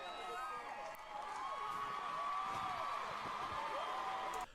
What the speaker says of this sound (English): I have this cheer going on in the background of this last sort